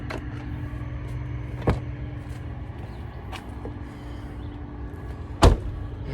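The door of a 2019 or later Chevrolet Silverado truck is opened, with sharp latch clicks and a heavy clunk near the end over the low hum of a running engine.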